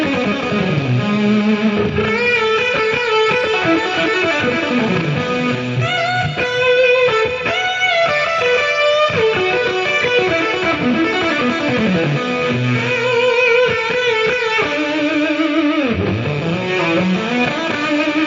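Electric guitar played through a Fuzz Face fuzz pedal on the neck pickup, a thick, saturated psychedelic tone with sustained bent notes and flowing melodic runs, loud and continuous with no talking.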